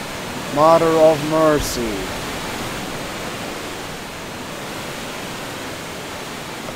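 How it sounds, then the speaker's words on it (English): Waterfall in the fantasy game Gothic II, a steady broadband rushing roar that continues without a break, with a short spoken exclamation over it near the start. "Also, the waterfall is very noisy."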